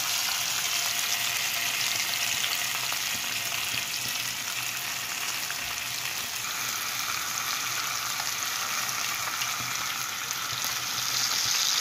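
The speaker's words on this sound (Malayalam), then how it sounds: "അപ്പോൾ ഇതാ ഫിഷ് ഷാലോ ഫ്രൈ ചെയ്ത് കഴിഞ്ഞു" Fish pieces shallow fry in hot oil in a pan, a steady close sizzle and crackle that runs unbroken throughout, with faint stirring and no talking.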